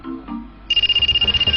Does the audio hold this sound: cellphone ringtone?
yes